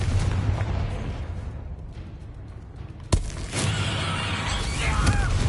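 A fiery Confringo blast spell from Hogwarts Legacy erupts as one sharp, loud explosion midway through, followed by a rumbling spell-combat roar over a steady low battle din.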